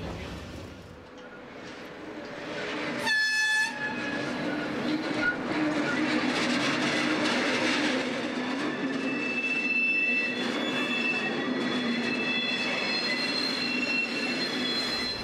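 A V65-class diesel locomotive rumbles along the rails while shunting, with a loud screech of squealing wheels near the start, followed by steady clattering and metallic grinding.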